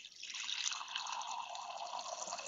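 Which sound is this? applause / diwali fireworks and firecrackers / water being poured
water being poured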